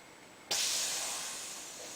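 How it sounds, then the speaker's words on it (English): After a short quiet lead-in, a burst of steam starts abruptly and keeps up as a steady, broad hiss that fades slowly toward the end. "Steam."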